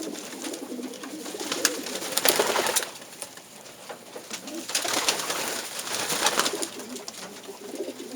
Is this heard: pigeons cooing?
yes